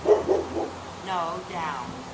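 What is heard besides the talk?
neighbor's dog barking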